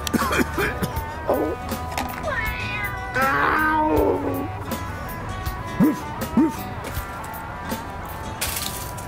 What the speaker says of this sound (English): Now I assure you there is a kitty cat over there.